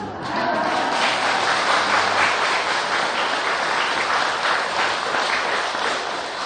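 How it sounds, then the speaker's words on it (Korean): Dense, steady applause from a temple audience at a Buddhist dharma talk, with many hands clapping at once, loud and close, holding evenly for several seconds with no voices over it. "박수 소리 듣고 하겠습니다"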